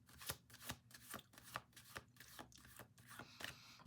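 Tarot cards are shuffled in quick, rhythmic riffles and soft rubbing slides, each pass a crisp burst, repeating about nine times at a faint, close level with no talking.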